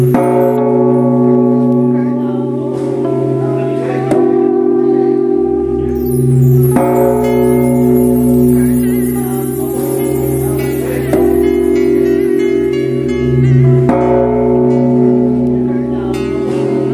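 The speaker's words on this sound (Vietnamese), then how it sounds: "Chuông một tiếng trước, khánh một tiếng sau, thịnh xen kẽ nhau đủ mỗi bên 9 tiếng ạ" A Vietnamese temple bell and a stone chime are struck alternately at an incense-offering ceremony in Định Hóa. Each strike leaves a long, humming, resonant tone that rings on until the next blow, spaced several seconds apart.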